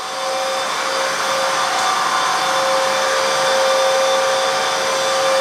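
A Bissell CrossWave HF3 wet-dry vacuum runs steadily while cleaning a messy hard floor, giving a loud, continuous motor whine with a high tonal hum and no voices.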